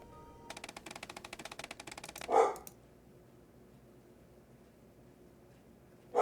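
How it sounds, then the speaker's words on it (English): A dog barks indoors, one sharp bark after a burst of rapid clicking like keyboard typing, then quiet hum until a second bark cuts in at the very end. "I'm so sorry about the barking that's happening."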